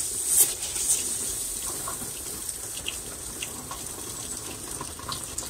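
Water pours steadily onto freshly repotted cotoneaster plants, a continuous close splashing flow with no talk.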